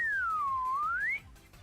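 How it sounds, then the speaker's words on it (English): A video game character whistles a single smooth gliding tune, falling then rising in pitch, over a faint rhythmic background pulse, then stops abruptly. "Do you just whistle under your breath?"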